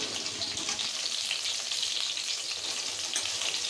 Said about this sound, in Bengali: এই পটলটাকে আগে আমি ফ্রাই করে নেব।